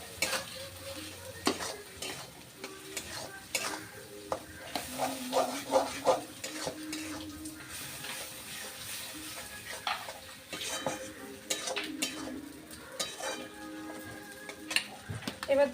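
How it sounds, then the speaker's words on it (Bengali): Ginger and cumin paste being stirred and sautéed in a pan for a fish curry, with steady sizzling, frequent scraping and clinking of a spatula against the pan, close-up and fairly quiet, no talking. "আমি আবার একটু ভালো করে কষিয়ে নেব।"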